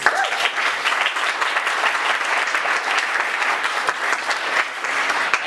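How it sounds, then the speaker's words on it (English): A university panel audience gives a sustained, even round of applause for sponsors, close and full from start to finish. "Can we get a round of applause for all of our sponsors, please?"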